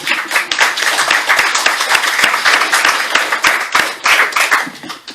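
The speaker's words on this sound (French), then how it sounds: "On peut applaudir Tiffany." Audience at a public political meeting clapping loudly and close, a dense burst of many hands with sharp individual claps standing out, continuing for several seconds before thinning at the end.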